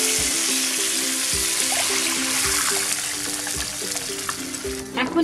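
Spice liquid is poured slowly into a pan of fried prawns, giving a steady frying sizzle with a low hum underneath and occasional soft knocks of stirring.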